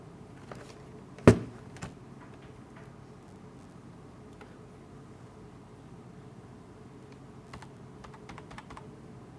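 A computer keyboard with a faulty spacebar that sometimes stops working is typed on sparsely, with one sharp loud clack followed by scattered soft key taps against quiet room noise.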